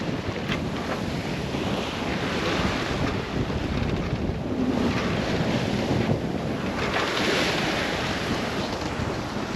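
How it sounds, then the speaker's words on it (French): Big ocean waves and strong wind on a sailboat at sea off the Atlantic coast, a continuous loud roar of gusting wind and surging water with no pause or voices. "la hauteur des vagues. Ils sont balèzes."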